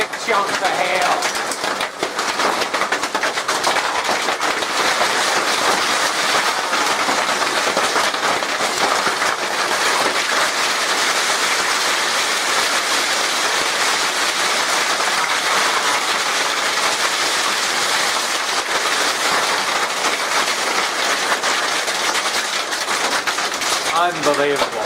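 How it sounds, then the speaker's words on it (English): Big chunks of hail pound a greenhouse roof in a dense, loud, continuous clatter that barely varies, with scattered faint voices underneath the roar of the storm. "there's big chunks of hail"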